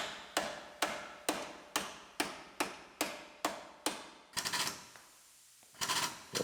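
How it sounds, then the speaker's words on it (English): A hammer strikes a steel frame rail on a wrecked Fox Body Mustang GT. Eight sharp, evenly spaced blows ring out close and loud, followed by a rapid rattling cluster of hits, a brief quiet and a final flurry. "we can hammer out the end of this frame rail and flatten it out."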